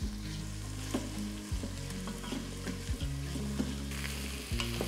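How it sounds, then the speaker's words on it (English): Thinly sliced onions and slit green chilies sizzle and fry in a pot, with stirring scrapes recurring every second or so over a constant loud crackle; no speech. "Saute the onions till they're a nice golden color."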